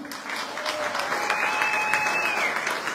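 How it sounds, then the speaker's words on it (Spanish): Steady audience applause at a community celebration for people from Tlaxcala in New Haven, a dense wash of clapping hands filling the space at an even level throughout, with no voices over it. "Un aplauso para ellos"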